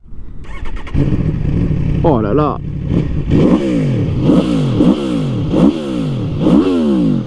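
An Aprilia Tuono V4 Factory motorcycle fires up and settles into a loud, close idle, then is blipped through a series of sharp revs that rise and fall in repeated bursts, with a man briefly exclaiming over it.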